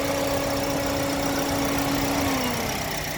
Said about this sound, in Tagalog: Okay guys, ito yung engine.